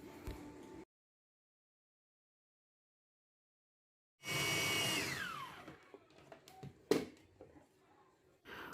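A kitchen blender whirs briefly through pre-cooked bissap, a loud burst after a stretch of silence that then winds down in pitch, followed by a few clatters.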